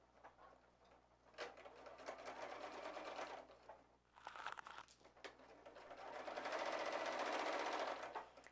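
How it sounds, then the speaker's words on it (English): A sewing machine stitches quilt block pieces together in two steady whirring runs separated by a brief pause, running close and alone at moderate level with faint handling clicks between. "So let's stitch these together."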